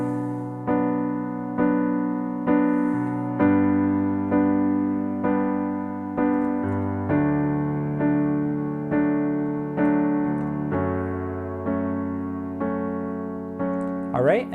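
Solo piano plays the verse accompaniment of a song: steady quarter-note chords in the right hand over sustained single bass notes in the left, a clear even pulse repeating through each measure, close and alone.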